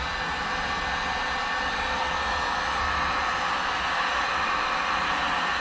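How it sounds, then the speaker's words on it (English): A heat gun, used to loosen a vehicle lens on a Ram truck, runs on its high setting with a steady, loud, unbroken blowing roar close by and no talk. "So we're gonna turn this heat gun on."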